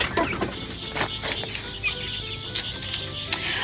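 Backyard chicken flock clucking steadily in a busy mix of overlapping calls, with a constant outdoor hiss and occasional louder bird notes, no talking.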